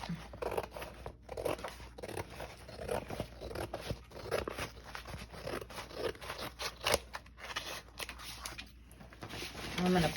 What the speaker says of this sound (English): Next step is to cut out.